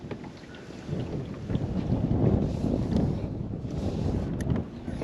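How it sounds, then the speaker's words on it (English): Wind blows across a lake on a fishing boat, buffeting the microphone in a low, rumbling roar that gusts stronger after the first second and stays steady, with no speech. "It's a little tougher than what it was last time I was here for sure, due to the wind, so hopefully the audio isn't too bad."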